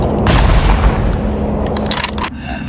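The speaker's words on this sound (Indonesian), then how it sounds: "dia segera saja menembakkan beberapa tembakan ke arah tumpukan limbah tersebut" Several gunshots fired at a pile of waste in a film scene, a few sharp loud cracks over a dense rumbling action soundtrack.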